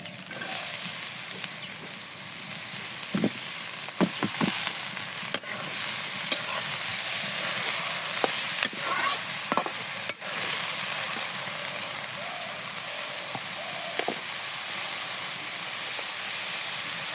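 Bottle gourd pieces and potatoes with green chillies sizzle steadily in a hot pan in a village kitchen, with scattered clicks and scrapes of stirring throughout, close and continuous, no talking.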